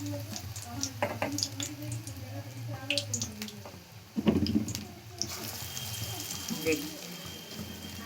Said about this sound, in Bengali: সব এইভাবে আমি একই ভেজে নিচ্ছি